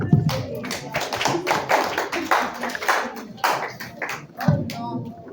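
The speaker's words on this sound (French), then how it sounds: "Un applaudissement pour la femme remarquable qu'elle a été." Mourners applaud at a funeral ceremony, with irregular bursts of hand clapping rising and falling over a few seconds, fairly close and loud, and some voices mixed in.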